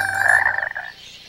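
A single frog croak from a Sesame Street trailer, a bright, nasal call lasting under a second that fades quickly into quiet, with no talking.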